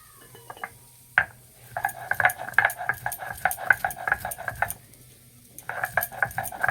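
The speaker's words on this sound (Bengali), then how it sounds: "শুকনো শিলে ভাজা মশলাটা গুঁড়ো করে নেব।" Roasted fennel and cardamom being ground by hand on a dry grinding stone, with close, rhythmic scraping strokes in bursts and a short pause before the grinding resumes. No one speaks.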